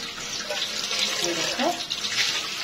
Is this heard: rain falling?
no